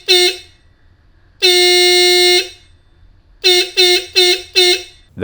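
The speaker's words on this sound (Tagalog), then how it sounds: "Now time to test the horn with the relay." A loud low-tone Hella horn on an electric scooter, wired through a relay, blares: one short blast, a long sustained honk, then four quick bursts in a row, harsh and close.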